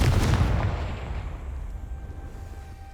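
A Confringo fire spell bursting in Hogwarts Legacy: one loud, close blast with a heavy low boom that rolls off and fades over a few seconds, with no other sound over it.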